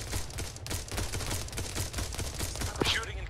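Rapid gunfire from the military shooter game Arma 3, a dense continuous fusillade of overlapping shots at steady loudness with a voice briefly heard over it.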